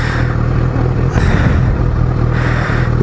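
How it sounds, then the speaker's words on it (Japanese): A Z900RS motorcycle engine idles while warming up before a ride. It gives a steady, loud, low rumble with an even pulse, close up and with no talk over it. "必ずアイドリングというか、もう、エンジンかけてね"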